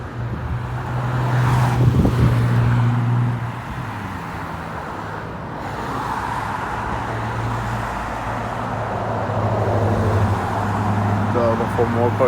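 Road traffic on a busy city street at Front St., with engines rumbling and a vehicle passing close by early on, then a steady roadway roar, while a person talks over it and wind buffets the microphone.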